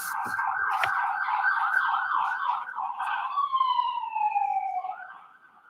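Emergency vehicle siren wailing in fast rapid cycles, then shifting into a long descending tone before fading, loud and clear with no talk over it.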